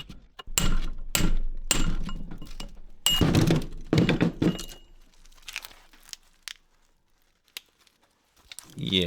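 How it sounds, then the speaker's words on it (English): Scrap transformer copper windings being cleaned by hand, paper insulation pulled and torn away with thunks, crinkles and rips in uneven bursts, loud and close, then thinning out to sparse faint clicks. "Now I just gotta pick all this paper out of here."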